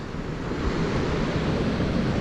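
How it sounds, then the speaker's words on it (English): Steady broadband rush of Indian Ocean surf along the Garden Route coast near Wilderness, South Africa, continuous and fairly loud with wind buffeting the microphone and no voices. "The beautiful Indian Ocean."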